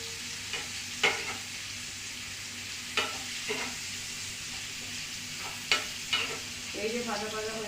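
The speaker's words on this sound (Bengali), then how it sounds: "এটা একটু ভাজা হোক।" Mixed vegetables fry in oil in a pan for an oats vegetable curry, a steady soft sizzle under occasional sharp scrapes and knocks of a stirring spoon, close and fairly quiet.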